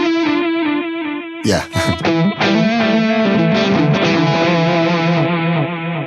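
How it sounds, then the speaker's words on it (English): Electric guitar run through a Wampler Catacombs pedal on its bucket brigade delay setting, Memory Man style: a sustained chord, then a sharp strum with chords ringing on, loud and up close, with repeats blending into the tone and a brief spoken word. "I think that's the bucket delay. So that's like the memory man."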